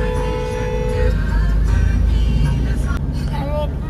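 Car engine hum while climbing a winding ghat road up to Jyotiba near Kolhapur, a steady close drone with passing traffic and a brief horn toot, and voices talking over it.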